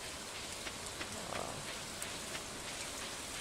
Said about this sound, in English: despite a warm rain being a pleasant way to get clean